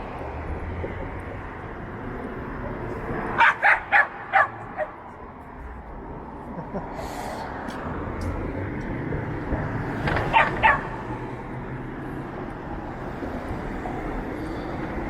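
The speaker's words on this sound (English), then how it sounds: "So that was a happy bark." A happy dog barks at a passer-by on a North York street in Toronto at night: a quick burst of four or five barks, then a shorter cluster of three later, fairly close over steady city traffic hum.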